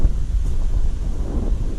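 Low rumbling thunder outdoors with steady wind buffeting the microphone, a continuous deep roll lasting under two seconds with no voices.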